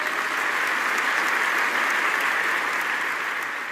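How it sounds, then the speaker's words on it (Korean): Seminar audience breaking into loud, sustained applause, a dense wash of many hands clapping evenly throughout with no voices rising above it. "다시 한번 큰 박수 부탁드립니다"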